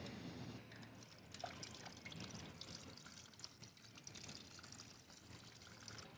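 Coolant dripping from the drain bolt of a Honda PCX150 scooter during a coolant flush, a faint, steady trickle of liquid spattering close by, alone without talk.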